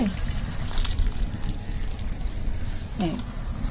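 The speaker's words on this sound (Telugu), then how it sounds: "ఈ నీళ్ళు ఇట్లా వంపేసేసి" Hot water poured off boiling rice, pouring and splashing steadily from a vessel, close by, with a brief voice heard over the continuous stream.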